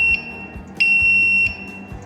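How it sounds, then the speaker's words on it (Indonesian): Buzzer driven by an NPN inductive proximity sensor (12–24 V) wired as an input to an Omron CP1E PLC, sounding a steady high electronic tone in three bursts as a load is brought near the sensor, close and loud with no talk. "Saat kita kasih beban, buzzernya nyala, beban pada proximity-nya."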